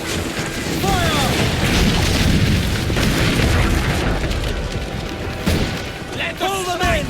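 Ship cannons boom in Assassin's Creed Black Flag, a continuous rumble of heavy blasts and crashing impacts during a naval battle, loud and dense, with shouted voices and gull-like cries over the din.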